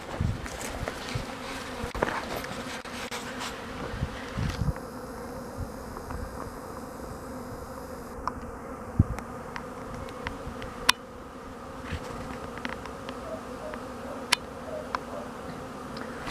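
Steady buzzing of many honeybees flying energetically out of a hive in winter, a continuous drone with occasional sharper ticks and no voices.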